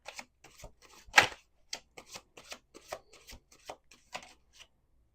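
Tarot cards being shuffled in quick, crisp riffling bursts, close and fairly quiet, with short gaps between the flutters and no talking.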